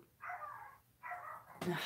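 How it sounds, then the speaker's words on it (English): Dogs at home barking and whimpering in two faint, drawn-out bursts, slightly distant, followed by a brief louder noise. "so now you're going to have to listen to the dogs"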